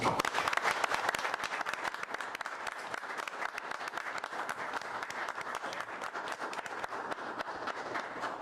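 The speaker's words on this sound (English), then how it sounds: "And another round of applause." Sustained applause from attendees at a school board of trustees meeting, many hands clapping in a fast, crackling, even patter that carries on steadily for several seconds at moderate loudness.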